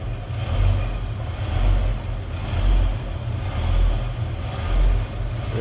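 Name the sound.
1967 Ford Mustang 289ci V8 engine running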